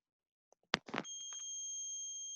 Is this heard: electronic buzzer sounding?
yes